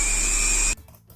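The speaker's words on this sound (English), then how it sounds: "Of course I can use a drill." A power drill whirs steadily at close range for under a second, then cuts off abruptly into quiet.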